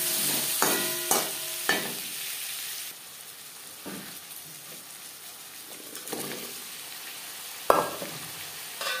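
Crushed ginger and slit green chillies sizzle steadily in a pan, with several sharp stirring scrapes breaking through the continuous frying hiss.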